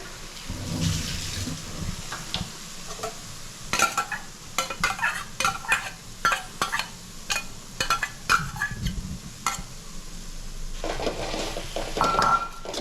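Mushrooms sautéing in a pan as they shrink down for a mushroom curry, with soft sizzling under repeated sharp clinks and scrapes of a utensil stirring against the pan, close and fairly steady throughout.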